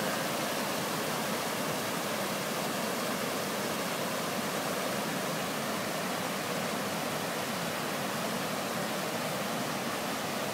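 Floodwater rushes down a small spillway into the Big Thompson River in downtown Estes Park, a dense, steady broadband roar of turbulent water heard close and unbroken throughout.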